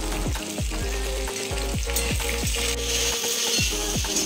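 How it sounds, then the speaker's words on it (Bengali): Potato, papaya, taro and pointed gourd fry in a pan with a steady broadband sizzle, while a series of repeated descending tonal swoops and scrapes, probably from stirring, recur roughly every half second over the frying. "পটলগুলো দিয়ে সব সবজিগুলো একটুখানি ভেজে নেব"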